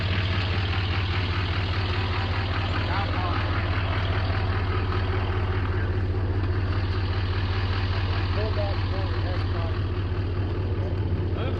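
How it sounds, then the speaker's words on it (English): A soil compactor, or packer, idles with a steady low diesel rumble on a house pad fill and leveling job, holding constant and fairly loud throughout while faint voices come and go in the background. "Move that packer out of the way, please."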